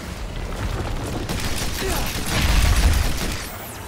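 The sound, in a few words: pistol gunfire in the video game Evolve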